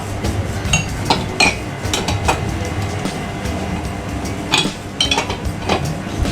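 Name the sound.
tightening a nut on a Vespa scooter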